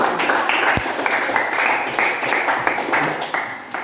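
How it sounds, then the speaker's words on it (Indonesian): Scattered clapping from a school class, loose and uneven, mixed with children's voices and chatter in a classroom. "Tepuk tangan dulu, mantap sekali."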